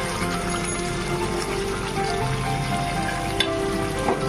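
Fried paneer being stirred into a vegetarian curry in a pan, soft steady sizzling with occasional scraping and clinking from the stirring.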